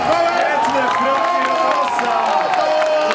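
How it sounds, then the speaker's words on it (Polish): Loud crowd cheering and applauding fills the whole stretch at a Counter-Strike esports match for third place at WGC 2010, with steady clapping and shouts throughout. "Brawa dla Rodosa, jak najbardziej zasłużone"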